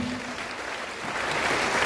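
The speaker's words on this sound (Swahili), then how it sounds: "Appreciate them kwa makofi" Audience applause at a gathering, a dense steady wash of clapping that swells slightly toward the end, with a brief voice underneath at the start.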